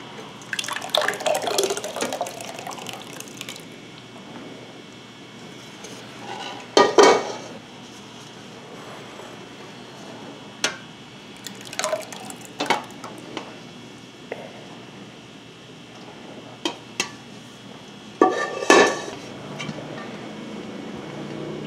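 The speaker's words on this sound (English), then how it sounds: "you are going to let it drip" Whey from homemade Instant Pot probiotic Greek yogurt drips and trickles while straining, with scattered wet drops and occasional clinks of a bowl or pot in a quiet kitchen.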